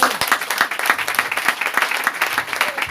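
A church congregation applauding together, dense and steady clapping with rhythmic pulses, close and fairly loud throughout.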